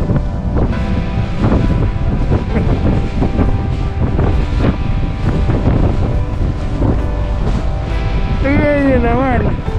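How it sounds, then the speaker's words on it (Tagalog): Strong winter storm wind in Canada roars and buffets the microphone outdoors in deep snow, loud and continuous, while a person talks over it and a voice rises near the end. "Kaya tingnan nyo kung gaano kalakas yung hangin, tsaka gaano kalalim yung snow."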